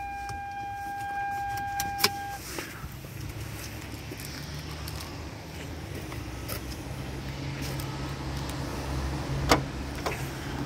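A car's power trunk operating outdoors: a steady low motor hum with scattered clicks and a couple of sharp knocks, moderately close and not loud.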